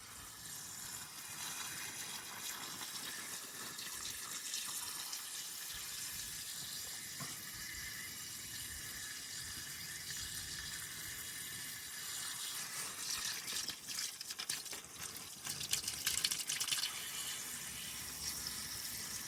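Water runs steadily from a tap or spout on a 1957 GMC 350 truck, a continuous splashing flow that grows a little louder and rougher toward the end.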